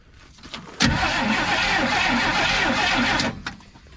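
A 1950s car engine with a one-barrel carburetor cranks over steadily without catching, a loud, continuous churning starter drone lasting about two and a half seconds and then stopping.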